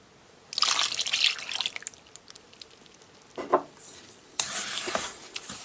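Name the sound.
mixing semolina batter with melted butter and milk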